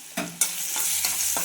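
Garlic frying in hot oil in a pan while being stirred, a bright crackling sizzle with a few quick utensil scrapes, close and moderately loud.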